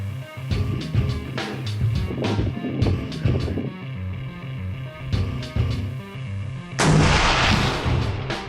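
Rifle shots fired while hunting javelina, several loud sharp reports with echoing booms, the last blast the loudest near the end, no talk.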